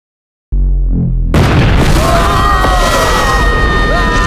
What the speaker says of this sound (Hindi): उसी टाइम उस मिक्सर में आग लग जाती है और एक जोर का धमाका देखने को मिलता है